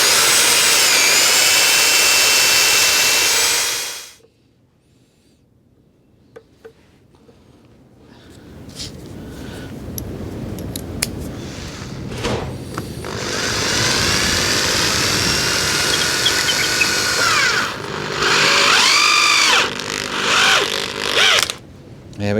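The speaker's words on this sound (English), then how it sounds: "So let's drill through the hole first" Wood drill boring through an oak ceiling for long PAX bolts, with loud high-pitched whining bursts, a pause of near silence, then rising drilling with grinding surges and short stops.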